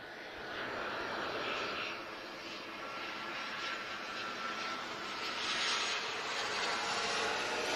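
A Boeing 737 jet airliner at Lisbon Airport, its engines giving a steady, loud broadband roar that holds evenly throughout with a slight swell near the end.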